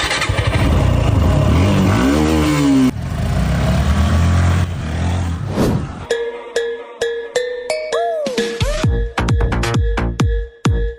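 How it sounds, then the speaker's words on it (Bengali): Several motorcycles start up with loud engine roars and revving that rises and falls, then a series of sharp, rhythmic bursts and tonal sweeps follows as the bikes pull away. "এই সবাই মোটরসাইকেল স্টার্ট দে"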